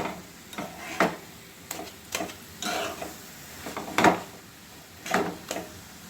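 Carrot and a thick milk kheer fry in ghee, a low continuous sizzle punctuated by regular spoon scrapes and knocks against the pan about once a second, close and moderately loud, no talking.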